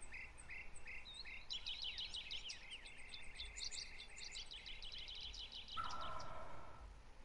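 Wild turkeys in a turkey hunting game: repeated high chirping calls and yelps over a steady outdoor insect-like hum, with a louder cluck burst near the end.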